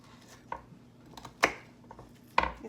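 Kitchen knife chopping a strong onion on a board, three separate sharp knocks spaced about a second apart, close and fairly quiet.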